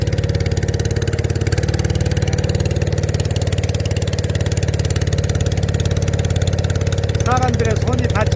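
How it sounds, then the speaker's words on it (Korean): A boat engine off Phu Quoc Island, Vietnam, runs loud and steady, a constant low droning hum throughout, with a brief higher chirp near the end. "엔진 소리가 좀 시끄럽지만은"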